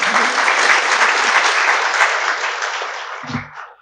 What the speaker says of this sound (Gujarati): બંને અતિથિઓને આપણે જોરદાર તાળે તાળીથી